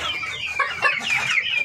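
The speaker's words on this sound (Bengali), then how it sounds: "ফার্মে মুরগিগুলো অনেক বড় বড় হয়েছে। দুটোটাই ডিম পারে।" Large egg-laying farm chickens cluck steadily, a close, continuous flock chorus with rising and falling calls and no talk.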